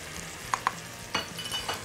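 Tomato juice goes into a hot pan for Egyptian koshari sauce, giving a soft, steady sizzle with a few sharp clinks of a utensil against the pan, quiet and close.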